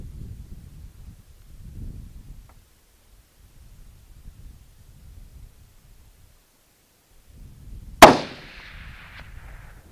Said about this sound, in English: that was my last shot on this rifle